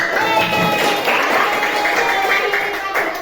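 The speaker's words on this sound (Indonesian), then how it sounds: "Tepuk tangan." Classroom of schoolchildren clapping together after a chant: a dense, fairly loud patter of small hands, lively and continuous, with faint voices mixed in.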